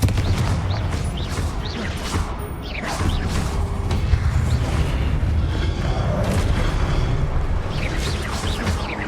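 Confringo fire spell explosions in the video game Hogwarts Legacy during a boss fight, a continuous dense roar of booms, crashes and whooshes with low rumbling throughout.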